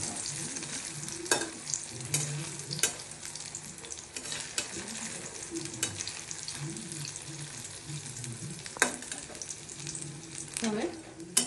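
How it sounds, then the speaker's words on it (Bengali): Ridge gourd and chana dal koftas fry lightly in a pan, a soft, even sizzle broken by irregular scrapes and knocks of a spatula lifting them, fairly quiet with no talk. "এইভাবে তুলে নেব, লাইট করে ভেজে একটু।"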